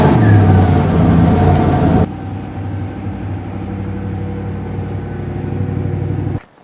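A Koenigsegg Regera engine rumbles loudly up close, then drops to a lower idle burble before cutting off abruptly at the end.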